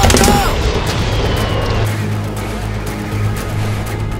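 Gunfire rattles in steady bursts over a heavy low rumble in a Halo Reach battle cinematic. The shots are loud and close, with a faint voice near the start.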